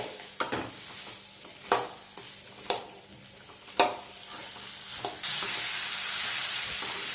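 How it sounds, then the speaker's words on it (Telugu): Potatoes and onions frying in a pan for aloo curry produce a close sizzle with sharp stirring scrapes every second or so, then a louder, steadier hiss takes over near the end. "1 నిమిషం పాటు ఈ పొటాటోను కూడా ఫ్రై చేసుకోండి."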